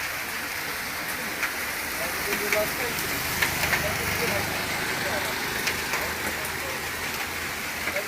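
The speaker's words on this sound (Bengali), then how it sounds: "প্রচণ্ড বৃষ্টি হইতেছে নোয়াখালীতে" Dense, steady heavy rainfall in Noakhali hisses all around, with occasional faint taps and a low rumble underneath, while someone seems to be talking quietly.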